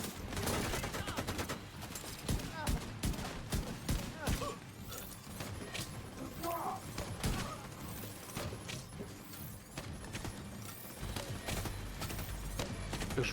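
Enemy gunfire in The Division 2 crackles in rapid, overlapping bursts of shots that continue almost without pause, some sharp and close and others more distant.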